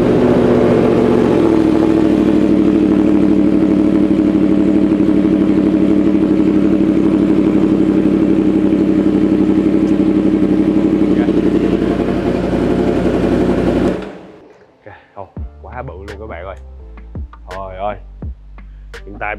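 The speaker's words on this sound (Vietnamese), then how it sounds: "Thì cái bô R1 nó sẽ to hơn rất là nhiều á, do nó đang đi cây SC, họng rất là lớn." A Yamaha R1 motorcycle fitted with a large-bore SC exhaust runs loud and close, a heavy steady engine roar that holds for about fourteen seconds, then cuts off, followed by a person talking.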